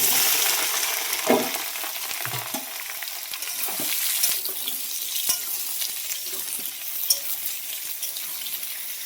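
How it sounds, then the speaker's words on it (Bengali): Potato pieces frying in hot oil for a soyabean dish, a steady bright sizzle with occasional louder crackles and stirring clatter, close and continuous without talk. "এবার আমি আলুটা ভেজে নেব লাল করে"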